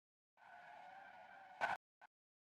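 A car in the video game Parking Garage Simulator speeds and skids, a sustained tonal tire squeal with a sharp burst at the end and a brief trailing chirp, faint and isolated against silence.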